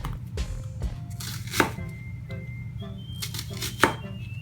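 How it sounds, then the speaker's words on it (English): A knife slides through onions on a cutting board, giving a series of soft slicing strokes with a couple of sharper chops against a low steady background hum. "So when we're cutting our onions, this is how we want to cut them."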